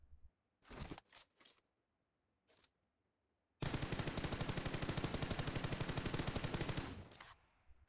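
M416 and AUG rifle fire in PUBG Mobile, a few short separate bursts at first and then one long sustained automatic burst of rapid, evenly spaced shots that fades out at the end.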